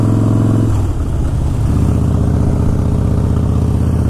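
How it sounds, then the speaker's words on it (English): A Harley-Davidson Blackline motorcycle with Vance & Hines turndown pipes rumbles at a steady idle with a loud, deep, lumpy throb, briefly shifting pitch as the throttle blips before settling back into the low beat. "And this bike's got a sweet sound to it."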